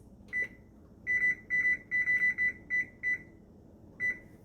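An oven timer is being set while baking cabbage steaks: a short beep, then a run of about eight quick, clear beeps in an uneven rhythm, and one more beep at the end, close and fairly loud over a quiet room.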